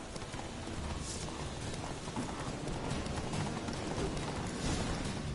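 Horse hooves clip-clopping steadily at a slow pace in The Witcher 3 video game, a continuous moderately loud rhythmic clatter with no talk.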